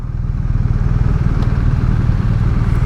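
A 2021 BMW R1250RT boxer-engined touring motorcycle rumbles steadily while being ridden, its low, continuous engine drone loud and close alongside a constant rush of road and wind noise, with no speech.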